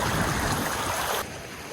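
Flowing river water gives a broad, steady rush that drops abruptly to a quieter, duller wash partway through, with no one speaking.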